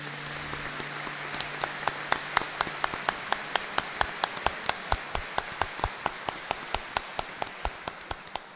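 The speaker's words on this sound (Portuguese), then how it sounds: "queremos saudar a todos com uma bonita salva de palmas" Rhythmic applause at a mass rings through a church, a crowd clapping in unison with steady sharp beats that slow slightly over the duration.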